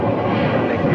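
An Amazon cargo airplane taxiing at Phoenix airport gives off a steady, loud, broadband jet engine roar with no break, filling the whole second.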